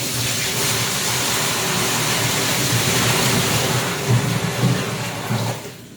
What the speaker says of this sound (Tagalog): bubuhusan ko at makikita nyo na tuloy-tuloy yung tubig na lumalabas